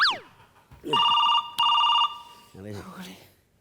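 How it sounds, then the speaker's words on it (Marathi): A telephone rings in two electronic bursts, with brief voices before and after the ringing. "तुमचा फोन वाजतोय"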